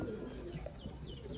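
Soft pigeon coos from a breeder pair in Sialkot, a couple of low murmuring calls close by against a steady background murmur.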